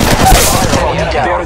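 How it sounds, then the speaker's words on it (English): An enemy squad's gunfire in Apex Legends Mobile, loud and close: dense rapid bursts of automatic fire rattling continuously, thinning slightly toward the end. "I am taking fire. There's another squad attacking."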